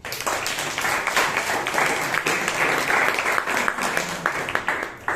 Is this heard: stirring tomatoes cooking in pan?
no